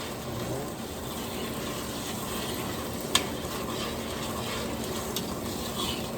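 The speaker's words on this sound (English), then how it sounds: "scrape up any little burnt bits on the bottom of the pan, get them up into this liquid" A hot pan being deglazed as burnt bits are scraped up into liquid for a red wine braised short rib, a steady bubbling sizzle with a single sharp scrape or clink partway through.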